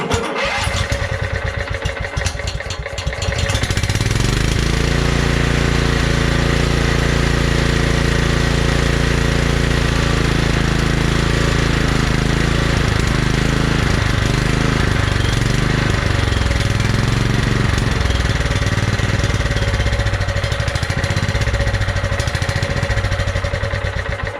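A Kohler Command engine repowering a Scotts by John Deere lawn tractor cranks, catches and runs. It settles into a loud, close, steady idle with a slightly uneven, unsettled beat, and no one speaks.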